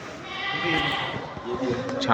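Goats bleat in short wavering calls amid the low murmur of people talking nearby at the Deonar goat market, a busy livestock-market feel.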